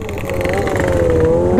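Kawasaki ZX25R sport motorcycle engine revved hard, a loud sustained high-pitched wail held for over a second with a sharp blip near the end, close by, with faint voices in the background.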